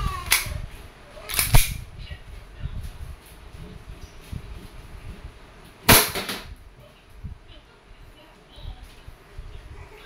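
Sharp semi-automatic shots from a 2011 WE Hi-Capa T-Rex airsoft pistol, with three loud snapping cracks spaced irregularly and standing alone over faint background murmur.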